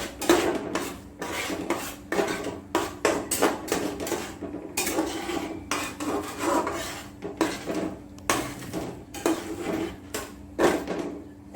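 A utensil scrapes and clinks against a pan while egg is mixed for kothu chapathi, with rhythmic rasping strokes and metallic taps repeating close by for several seconds.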